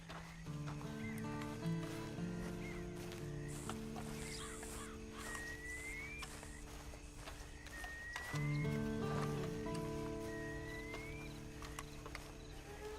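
Horse in the video game Red Dead Redemption 2, its hooves and snorts blending with steady game music and outdoor ambience that includes faint bird calls, holding at an even level throughout.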